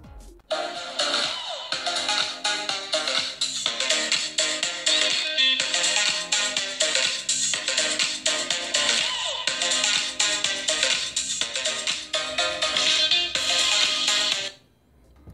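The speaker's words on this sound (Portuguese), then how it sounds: "eu vou estar mostrando para vocês só o som da caixinha" Music plays continuously from a small Bluetooth speaker, loud and steady with a bright, thin tone, cutting off near the end.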